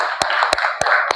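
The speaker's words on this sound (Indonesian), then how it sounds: "Berikan tepuk tangan untuk teman-temannya" Classmates in a classroom give a few slow, distinct claps, four sharp hand strikes spaced evenly and close by, with faint room murmur between them.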